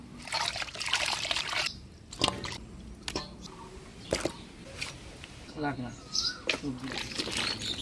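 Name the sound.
washing cut chela fish in water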